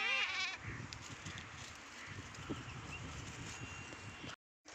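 A sick goat bleats loudly at the start, then a softer outdoor bed with faint shuffling follows before a brief cutout near the end.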